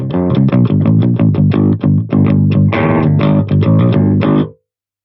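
Low-tuned electric guitar played clean straight into a Harley Benton, no distortion pedal, with a chugging rhythmic riff of short, loud chords and palm-muted hits ending abruptly into silence.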